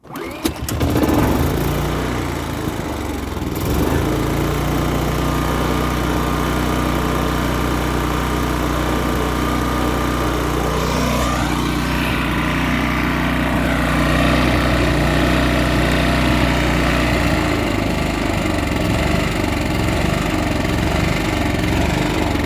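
A small engine, just fixed after a bad-fuel problem, starts with a burst and then runs steadily at a loud, close, buzzing idle, shifting pitch briefly partway through before settling.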